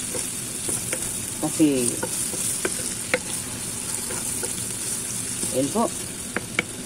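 Chicken cube and paprika being stirred into a sizzling frying pan, with steady frying hiss, scraping strokes of a utensil, and a person speaking briefly.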